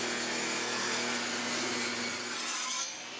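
Saw ripping wood boards for a simple bed frame, a continuous rough, close cutting noise for about three seconds before it drops away.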